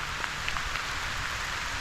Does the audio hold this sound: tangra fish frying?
no